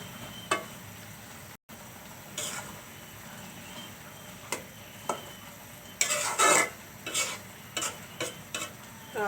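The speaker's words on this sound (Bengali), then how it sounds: "আমি এখন এগুলো একটু ঘাটা দিয়ে" Taro leaves and red lentils stirred in a pot, quiet scattered scrapes and knocks of a spoon against the pot over low simmering sizzle, with a denser cluster of stirring strokes toward the end.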